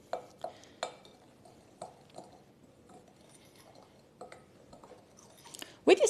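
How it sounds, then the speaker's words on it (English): A teaspoon mixes seasoning in a small bowl, giving a series of sharp, irregular clinks and taps with quiet gaps between them, close by in a home kitchen and ending in a louder clatter. "I'm just going to mix that with my teaspoon"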